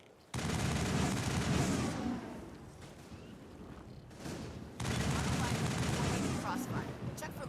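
Sustained crossfire of rifle and turret fire in the shooter Mass Effect, with dense rattling bursts that swell, dip and then surge again, loud and continuous.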